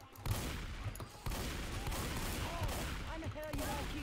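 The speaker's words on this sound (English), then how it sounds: "They're shooting each other." Bursts of rapid gunfire from survivors in Left 4 Dead 2, loud sharp volleys repeating over a few seconds with short gaps, overlapping with speech.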